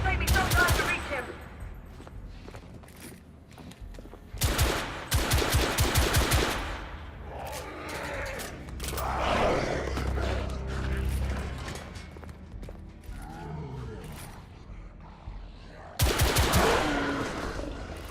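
Bursts of automatic gunfire crackle in The Order: 1886, a Victorian London-set shooter, with several loud machine-gun volleys separated by quieter stretches of rumbling ambience and dialogue.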